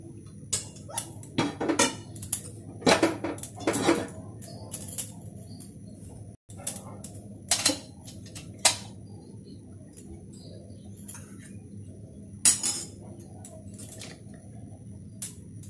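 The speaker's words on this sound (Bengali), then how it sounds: "এখানে বসিয়ে দিচ্ছি কড়া।" A wok (kadai) is set on a home kitchen stove, giving a scattering of short, sharp metallic knocks and clatters. Each one stands out over a quiet, low background hum.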